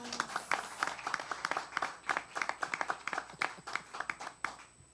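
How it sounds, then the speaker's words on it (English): A small audience claps for a speaker at a business event, distinct rapid hand claps in an uneven rhythm, moderately close and fairly quiet, fading near the end. "Are we not clapping for Devin,"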